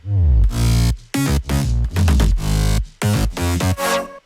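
A thick layered synth bass with deep sub underneath plays in punchy, separated notes and chords, loud and upfront with no voices.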